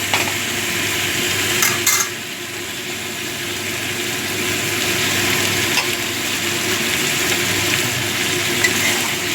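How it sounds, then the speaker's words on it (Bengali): Chicken pieces stirred in a hot pan for dry chilli chicken, a loud continuous sizzle with scraping and clattering of the spoon against the pan, close up, with no talking. "চিকেনটা দিয়ে ভালো করে মিশিয়ে দিচ্ছি।"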